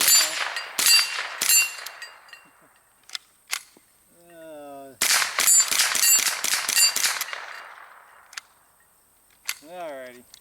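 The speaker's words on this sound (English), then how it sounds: "we're getting some shots on target, despite the fact that it's wildly off" Rifle shots ring out at a shooting range as rapid sharp cracks with metallic clangs from struck targets, in two clusters separated by quiet gaps, alongside brief whistling sounds.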